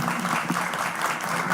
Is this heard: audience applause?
yes